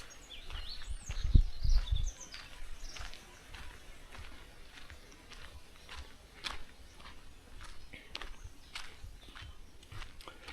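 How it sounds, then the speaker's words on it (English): Sparrows and other birds call from village trees on a quiet evening in an African village, with scattered faint chirps and tweets over a low, still background and a brief soft thump near the start. "It's in the evening, so there's the rovers, sparrow, some birds calling in the trees there."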